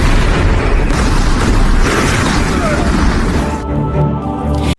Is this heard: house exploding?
yes